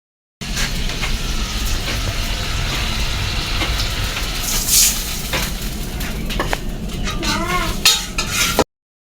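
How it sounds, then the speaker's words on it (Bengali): Eggs frying one by one in a pan in a home kitchen, a steady loud sizzle with intermittent scraping and clinks of a utensil against the pan. "সবগুলো ডিম এক এক করে ভেজে নেওয়া হচ্ছে।"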